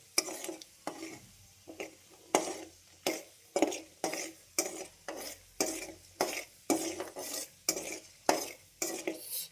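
Peanuts, urad dal and chana dal fry in hot oil while a spoon stirs them, giving about a dozen regular scraping strokes over a faint sizzle, close and fairly quiet, with no talk.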